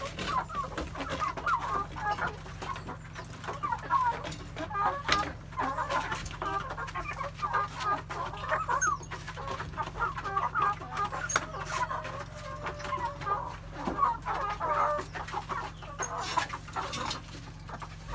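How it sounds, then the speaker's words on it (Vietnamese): Chickens at a farm feeding area cluck and chatter continuously, a dense, lively flock of overlapping clucks close by with an occasional rooster note, under a low steady hum. "Chỗ gà ăn nha các bạn ơi."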